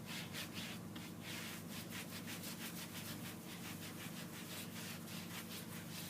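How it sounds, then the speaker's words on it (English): Clear wax rubbed by hand over a textured painted finish gives a soft, rhythmic swishing of cloth strokes back and forth, quiet and close with no talking. "And so I'm just going to do some clear wax over my whole thing."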